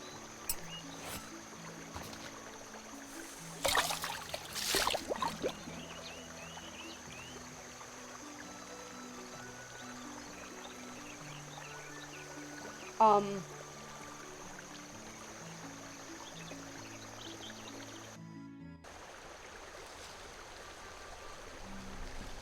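A boat drifts down a brook in Night of the Rabbit, with low, steady trickling water and soft game music underneath, and a few brief louder splashes.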